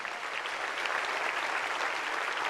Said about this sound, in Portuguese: Aleluia, pode aplaudir o Senhor mesmo.